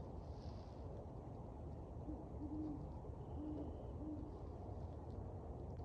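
Owl hooting in a call for a mate, a few soft low hoots spaced across the middle of the stretch, faint and distant beneath steady wind and outdoor background noise.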